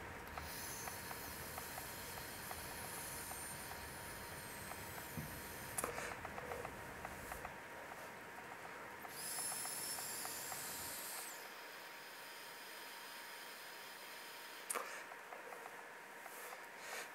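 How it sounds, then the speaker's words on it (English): Faint, steady airy hiss of a draw on an electronic cigarette with good airflow, a long continuous breathy rush with brief higher whistling streaks, quiet and close. "let's take another hit off it, and you can see the consistency in the vape"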